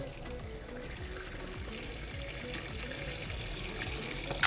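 Cooking broth poured off a pot of carp bait particles, a steady watery pour and trickle with a faint clink at the end, heard without talk.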